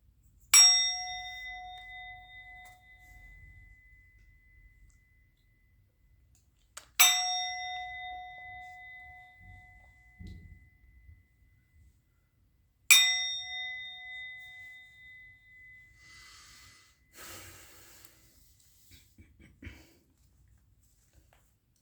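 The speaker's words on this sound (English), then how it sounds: "I'm going to ring the bell." A single bell is struck three times, several seconds apart. Each strike gives a clear, bright ring that fades slowly in a quiet room, and there is faint rustling between the strikes.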